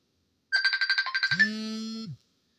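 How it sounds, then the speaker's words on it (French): Two telephone lines ringing at once in a call-in broadcast setting: a rapid warbling electronic ring pulses about ten times, then cuts into a lower steady tone lasting under a second before stopping. "Ça sonne de deux côtés."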